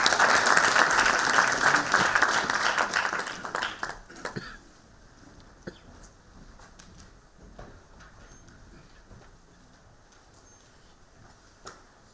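An audience at a seminar on the future of Bundang as a digital special autonomous city breaks into loud, dense applause for about four seconds, then it fades abruptly into a quiet room with a few faint clicks and taps.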